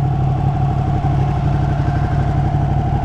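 A Ducati 959 Panigale motorcycle engine runs loud and close with a steady, even rumble, held at a light, constant throttle with no clear rev change.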